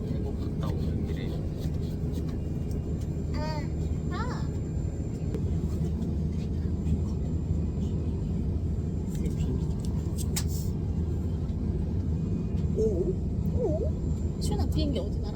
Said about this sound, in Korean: 시윤아, 비행기 탄 거야 지금?